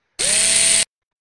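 A drill pod from the Henry Stickmin game Fleeing the Complex whirs into motion, its pitch rising briefly before settling into a steady, loud mechanical whine that cuts off abruptly after under a second.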